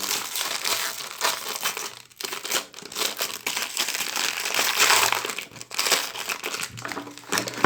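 A large plastic bag is handled while toys are unpacked, giving continuous close, loud crinkling and rustling with brief pauses throughout.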